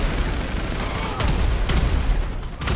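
Rapid gunfire in GTA V as a player shoots at aliens, dense crackling bursts that run throughout, with sharper shots standing out and a voice talking over them.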